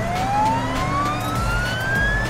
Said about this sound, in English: Amber the ambulance is here.